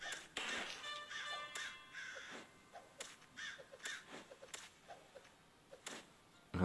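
Crows caw repeatedly in the Kingdom Rush Vengeance tower defense video game, a series of harsh short calls spaced irregularly, moderately quiet with light ticking clicks between them.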